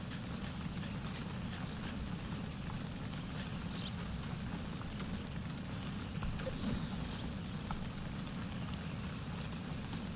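Steady rain falls in the Viva Piñata: Pocket Paradise garden, a continuous hiss with a low rumble and scattered faint ticks that holds evenly throughout with no talking.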